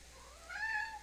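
A house cat gives a single drawn-out meow that rises and falls over about half a second, close and moderately loud in a quiet room, with no speech.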